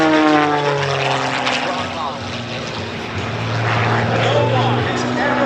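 A loud, steady propeller-engine drone from an aerobatic airplane performing at the 2023 Columbus air show, swelling and easing as it maneuvers while an announcer talks over the public address.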